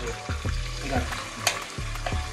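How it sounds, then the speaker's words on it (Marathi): Onion, garlic, tomato and ginger-garlic paste gravy tipped into hot oil for dum biryani, crackling and sizzling steadily with a few soft stirring knocks, close and alone. "ग्रेव्ही आधी केलेली आहे, ती तेलात टाकून घ्यायची आपल्याला"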